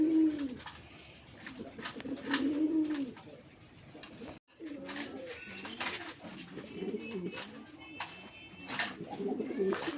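Native Bangladeshi and Raj Golla pigeons coo in repeated low, rolling phrases, several birds close by, with a brief pause partway and faint background noise.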